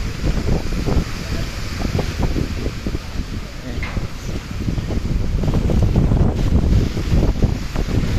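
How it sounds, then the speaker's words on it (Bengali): Strong, gusty wind from Cyclone Remal roars and buffets the microphone continuously at Sadarghat, with low rumbling bursts throughout and no pause in the blowing. "প্রচুর পরিমাণ বাতাস হচ্ছে"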